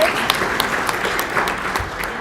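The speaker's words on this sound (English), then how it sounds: "Let's give them all another applause." Audience applause at a Martin Luther King celebration, a dense, steady burst of clapping from a crowd that continues evenly through the moment at fairly loud level.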